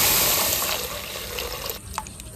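Running water swirls over lentils being washed for khichuri, a steady close splashing rush that eases off near the end.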